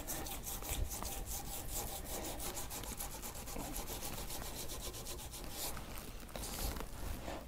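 A fiberglass AFO cast is smoothed by steady, close abrasive rubbing and rasping, a continuous scratchy sanding texture with a fairly regular back-and-forth rhythm and no talk.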